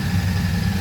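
A Royal Enfield Classic 650 Twin motorcycle engine idles close by, a steady low rumbling throb that holds evenly through the whole moment with no revving and no voices.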